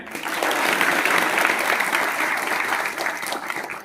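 An audience at a political party review meeting gives loud, steady applause. The dense clapping continues for several seconds and fades slightly at the end.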